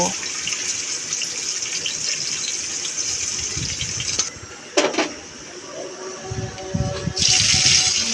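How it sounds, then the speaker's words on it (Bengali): Chopped onion and garlic frying in oil in a pan for a lentil-dal tempering, a steady close sizzling hiss broken by a brief clatter midway and a louder burst of sizzle near the end. "পেঁয়াজ রসুনটাকে এবার ভেজে কিছুটা বাদামি করে নেব।"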